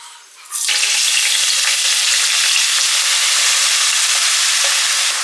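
Sliced onions drop into hot oil over medium heat and a loud, steady sizzle rises at once, continuing close and even with occasional soft clicks.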